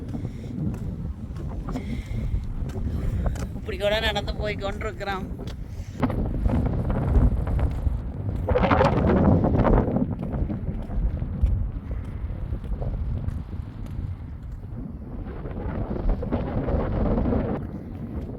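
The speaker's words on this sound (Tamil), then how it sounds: "நல்ல காற்றடிக்குது" Gusty wind in a Swiss mountain village buffets the microphone in rough, roaring surges that rise and fall, while a person talks intermittently underneath.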